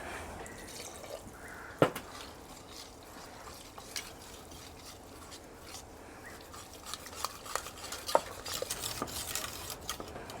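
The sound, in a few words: stirring cream in a cooking pot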